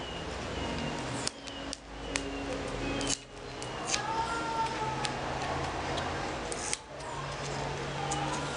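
Black tape snipped with scissors while building a DIY lamp tree, a few short crisp cuts and clicks close by over a quiet background.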